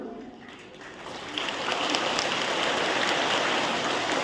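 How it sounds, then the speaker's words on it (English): An audience in a school multi-purpose hall applauds the school secretary at an award distribution ceremony, with dense, steady clapping that swells after a quieter start and continues evenly to the end. "a special round of applause for our Secretary Sir"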